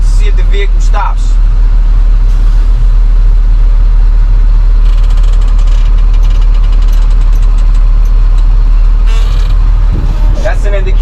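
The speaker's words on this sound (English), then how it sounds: "I'm gonna move the vehicle from 3 to 6 feet ahead of us" A truck engine rumbles loud and low as the vehicle creeps forward a few feet during a CDL in-cab inspection. The drone stays steady throughout, with brief rattles and clicks on top.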